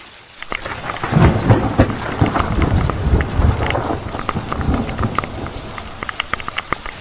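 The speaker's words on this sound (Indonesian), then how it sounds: "Hujan semakin lebat dan angin yang berembus mulai agak terasa dingin di tulang." Heavy rain pours during a thunderstorm on Mount Sindoro, a dense close hiss of drops on surfaces with deep rolling thunder rumbling through the middle and sharp drip and patter hits throughout.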